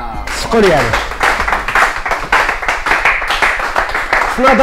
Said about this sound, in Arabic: صفقوا لي عليه